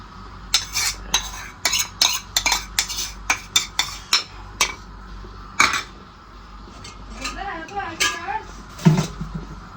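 A spoon stirring custard mixed into milk in a metal pot, a rapid series of sharp clinks and scrapes against the pot's sides, then softer stirring as someone talks over it.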